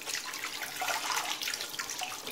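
Water from a tap runs steadily over a plastic part of an Electrolux bagless vacuum cleaner being washed in a sink, a close, continuous splashing hiss with no talk.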